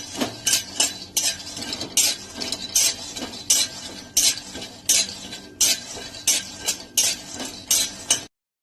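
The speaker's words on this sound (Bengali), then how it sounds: "এবার আমি বাদামটা ভাজছি।" Nuts stirred and frying in a pan for a Shab-e-Barat dish, with a steady sizzle broken by repeated loud clinks and scrapes of a spoon against the metal, close by and with no voices.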